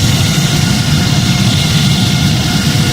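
Simulated Boeing 787-9 jet engines at full takeoff thrust on the runway roll, a loud, steady broadband roar with a deep low rumble, continuous throughout with no voices.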